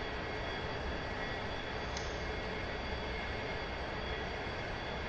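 An A-4E jet engine in a flight simulator, run up toward 85% power with the brakes held, gives a constant, loud, even roar with a faint high whine and no change in pitch or level.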